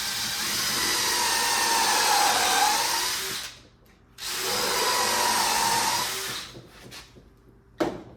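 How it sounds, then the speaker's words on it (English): A power drill bores into wood on a stuffed animal jail build: a loud, steady whirring grind runs for several seconds, cuts out briefly, then spins up again for another long pass before winding down, close by. "drilled that deep enough so I can get a plug in there"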